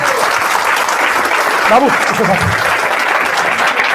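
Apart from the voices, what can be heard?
audience applause at a seminar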